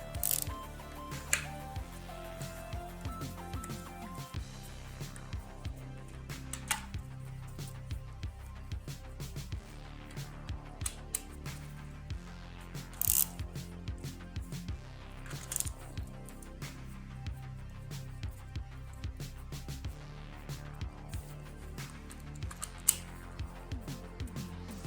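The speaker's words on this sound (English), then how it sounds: "then we got our 1/2-inch socket, and we will snug them up evenly" Half-inch socket ratchet snugging down bolts on a Triumph TR6 engine during a build, quiet close clicks and short bursts of ratcheting spread across the time with small metallic handling noises.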